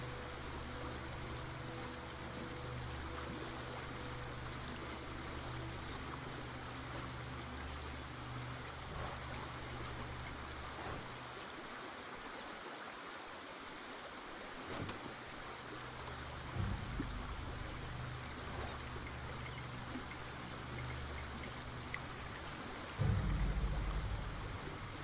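Acid water lapping and washing around rocks in a video game scene, a continuous soft low rush with a brief lull midway and small surges near the end.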